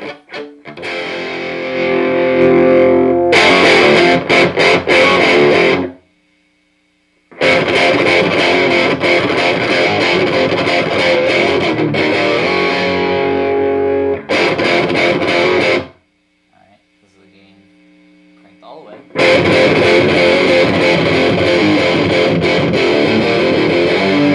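A heavily distorted electric guitar through a Marshall JCM 2000 DSL 50 amp's lead channel plays loud chords and riffs in bursts, with short silent gaps between the phrases.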